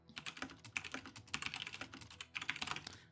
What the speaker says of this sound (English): my enter key keeps popping out on this keyboard